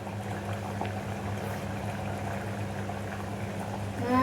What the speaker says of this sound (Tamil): கொதிக்குது.